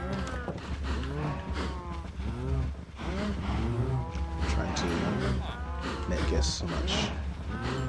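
Several cows in a video game moo repeatedly in overlapping, drawn-out calls alongside game sounds, with someone speaking briefly among them.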